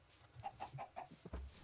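Blocky Minecraft chickens clucking in a quick run of four or five short, evenly spaced clucks, followed by a soft low thump, with no one talking over them.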